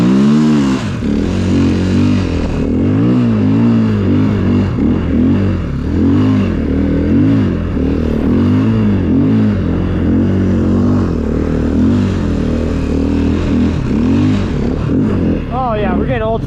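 The engine of a snow bike runs steadily and loudly up close, with its pitch rising and falling as it revs, and someone talks now and then over the motor.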